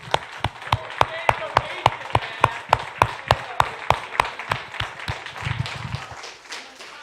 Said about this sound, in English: So let's just clap for that